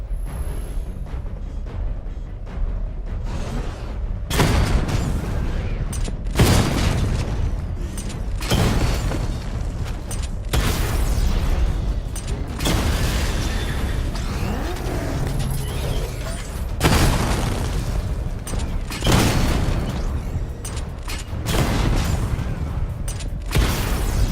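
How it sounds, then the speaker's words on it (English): Batman's missile barrage in Batman: Arkham Knight sets off a run of heavy booming explosions, about half a dozen loud blasts spread a few seconds apart over a rumbling mechanical background. "Charge the missile barrage to level 2 to destroy up to 4 targets at once."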